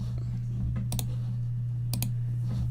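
Two sharp mouse clicks on an item in an RPG game, spaced about a second apart, each a quick double tick over a steady low electrical hum.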